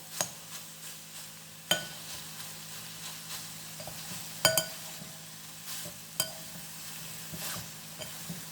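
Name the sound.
soya chunks frying and being stirred in a pan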